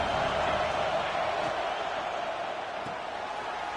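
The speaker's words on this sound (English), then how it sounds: "Listen to the crowd energy here in the early going." Broad, steady roar of a stadium crowd at a football game in the early going, loud and continuous with a slight easing toward the end, with no clear talk over it.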